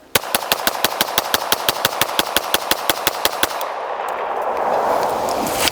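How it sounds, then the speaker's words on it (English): Springfield Prodigy DS pistol emptying a magazine in rapid fire: about twenty loud, evenly spaced shots in a fast steady rhythm, then the reports stop and a broad ringing wash of noise fills the rest. "I just do a quick mag dump, mag change, mag dump"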